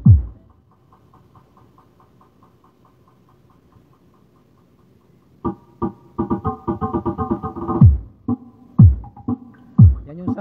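Low bass plays from a subwoofer, starting with one heavy thump, then a quiet stretch with a faint pulsing beat, before loud booming bass kicks back in.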